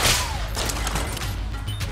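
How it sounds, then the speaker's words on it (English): Dense, continuous barrage of gunfire and bullet impacts in the Enter the Gungeon bullet-hell game, loud and busy throughout with no pauses. "So many bullets and things flying about, man."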